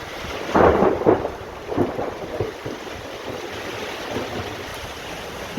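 Thunder rumbles during heavy rain on a tin roof, with a loud crack and rolling booms early on fading into a steady hiss of rain drumming overhead.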